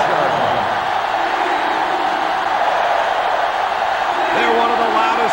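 Loud, steady roar of a packed stadium crowd in the NCAA Football 07 video game, a dense wash of noise holding throughout with a brief rising cheer near the end.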